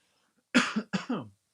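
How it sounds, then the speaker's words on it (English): Two close, sharp coughs in quick succession, each with a rough double burst, in an otherwise quiet room. "I have to cough"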